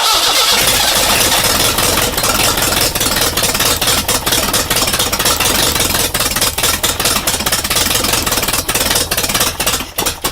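An old air-cooled motorcycle engine is cranked for its first start and sputters with loud, rough, uneven firing that keeps running and stumbling close by, with no voices.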